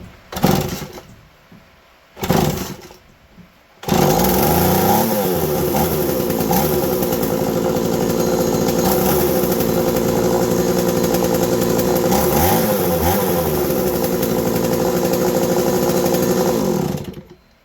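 McCulloch 3214 chainsaw running steadily on its own after fuel line and purge bulb replacement, a loud continuous two-stroke buzz with slight revving that follows two brief pull-start bursts and then cuts off.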